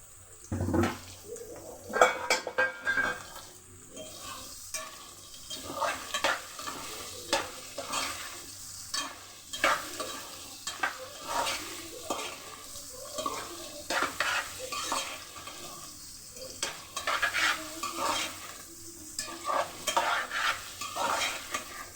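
Raw plantain pieces stirred and fried in a pan, giving a soft continuous sizzle broken by irregular scraping and clinking of a spatula against the metal, moderately close and fairly quiet.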